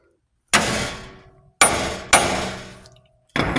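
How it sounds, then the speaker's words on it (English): Sledgehammer whacks on a tie rod end of a Hummer H3 / Chevy Colorado front axle with the nut loosened: three hard metallic clangs ringing out and decaying, then a fourth strike at the end, close and loud with no talk. "we're going to take our sledge and give this one really good whack right here"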